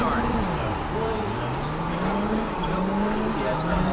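Cars race on a circuit in an arcade racing video game: engines whine and shift pitch up and down, with tire squeals sliding over a constant loud roar of the pack.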